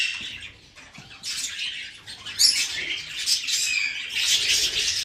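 Pet budgies chirp and squawk in busy, overlapping bursts of bright, high calls, close by and fairly loud, with small chattering sounds between.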